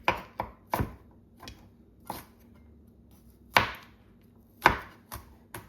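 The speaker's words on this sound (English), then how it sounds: "I'll chop up the garlic a little" Garlic being chopped with a knife on a board: a handful of sharp, separate thuds in an irregular rhythm, close and clear, with quiet pauses between.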